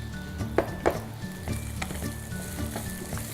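Onion and capsicum stir-fry on high heat, a loud steady sizzle with a few metallic clinks and scrapes of a spatula against the pan, and no voices.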